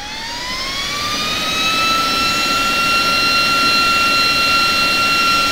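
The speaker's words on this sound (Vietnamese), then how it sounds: "các bạn nghe tiếng rít như kiểu động cơ máy bay" Small jet fan engine spooling up to full speed, a rising high-pitched whine with layered harmonic tones that climbs over the first two seconds and then holds loud and steady over a broad rushing roar.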